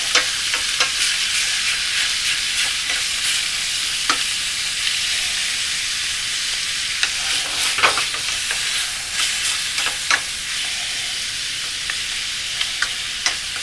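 Food fries in a pan with a loud, steady sizzle as seasoning is stirred in, with repeated scraping and clicking of the utensil against the pan over the constant hiss.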